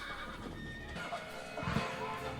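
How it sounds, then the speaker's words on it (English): A robot horse whinnies in a Westworld episode scene, a clear neigh heard over background score and faint voices, with a possible hoof clatter near the end. "It's a robot horse."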